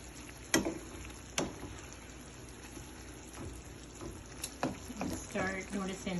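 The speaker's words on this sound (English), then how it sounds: "we're gonna stir it now and make sure that all blends in." Sausage pasta sauce gets stirred in a pot, soft scraping and wet sloshing with a few sharp clinks of the utensil against the pot, with a low simmering hiss underneath.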